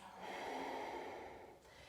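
A single long, breathy exhale through the nose and mouth, heard close and fairly soft, comes from someone holding a yoga twist in a revolved side angle pose during a hip-opening vinyasa practice.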